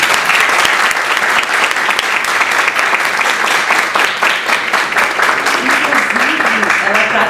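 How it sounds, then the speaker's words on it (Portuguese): Sustained applause from an academic conference audience, dense steady clapping that fills the whole stretch at close range, with faint voices mixed underneath. "Uma salva de palmas para a professora Vanessa."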